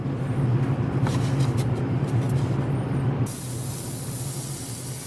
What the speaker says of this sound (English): take the airbrush at a real acute angle